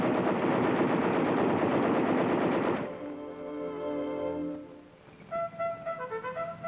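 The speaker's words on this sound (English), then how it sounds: "105mm cannon and two machine guns. All weapons can be fired from within." Machine guns on an M-60 tank fire a sustained, loud burst for nearly three seconds, then a quieter rattling follows and fades, with short distant bursts near the end.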